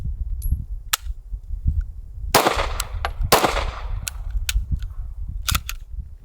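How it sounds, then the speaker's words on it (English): A Sig Sauer P320 pistol, just rinsed in water during a torture test, fires several rounds as loud, sharp, close cracks spaced a second or so apart, with lighter metallic clicks between them. "3 rounds out of the Sig. See what happens."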